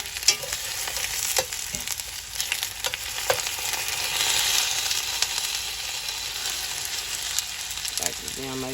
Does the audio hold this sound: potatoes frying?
yes